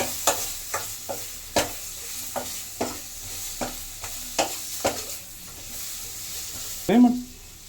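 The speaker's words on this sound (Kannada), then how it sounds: "ಸ್ವಲ್ಪ ಕ್ಯಾಪ್ಸಿಕಮ್ ಏನು ಕಟ್ ಮಾಡಿ ಇಟ್ಕೊಂಡಿದ್ವಿ ಅದನ್ನು ಹಾಕ್ಕೊಳ್ಳೋಣ. ಫ್ರೈ ಮಾಡ್ಕೊಳ್ಳೋಣ." Chopped capsicum frying in a pan for paneer butter masala, about a dozen distinct spatula strikes and scrapes at an irregular rhythm over a faint sizzle, close up, ending with a louder clatter, no talking.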